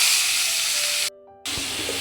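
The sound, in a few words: hilsa fish sizzling as it goes into hot oil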